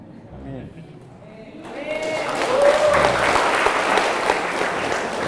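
A voice speaks briefly, then an audience breaks into applause that swells and holds as steady, full clapping for several seconds.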